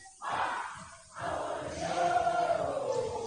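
Stadium crowd cheering at a men's football match between New Zealand and Australia, a broad roar that swells after a brief lull and holds steady at a loud, continuous level.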